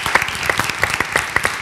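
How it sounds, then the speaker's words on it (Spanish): Audience applause at a live interview event in Spain, a steady patter of clapping hands with sharp individual claps standing out, moderately close and continuous for the short stretch. "Pues un aplauso para ellos"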